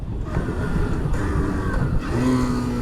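A Hero Glamour 125 BS6 motorcycle engine is run up to speed, giving a loud, sustained engine roar that holds steady and then climbs in pitch near the end.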